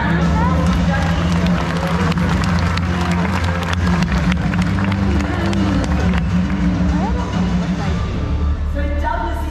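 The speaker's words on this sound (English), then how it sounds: "now we get to give a big round of applause to Douglas." Zoo audience at an Australian stork show featuring a black-necked stork (jabiru) gives a sustained round of applause, loud, close and steady, mixed with crowd babble and some cheering throughout.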